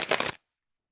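A quick riffle of tarot cards being shuffled, one brief crisp burst of close papery flutter that stops after a fraction of a second, followed by silence.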